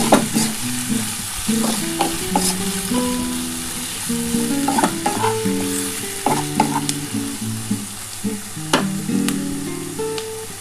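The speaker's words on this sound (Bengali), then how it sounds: "একটু ভাজা হোক একটু ব্রাউন কালার হয়ে গেলে টমেটোটা" Chopped onion and tomato fry in a pan, giving a continuous sizzle broken by frequent scraping and clinking of a spoon as they are stirred, close and fairly loud with no voices.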